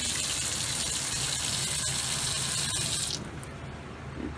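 Water runs steadily from an RV trailer's kitchen sink sprayer into the basin, a constant broadband rush that cuts off abruptly near the end, leaving quieter room sound.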